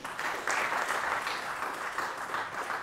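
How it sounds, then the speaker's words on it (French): A crowd at a ceremony in Benin honouring a capoeira master applauds warmly, a fairly quiet, continuous spread of many hands clapping heard from a distance. "que je vous prie d'applaudir très fort"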